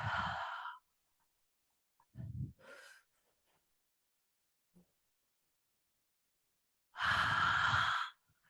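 Slow deep breaths during a yoga class, three long audible exhales separated by silent gaps, close and soft with a breathy sighing quality.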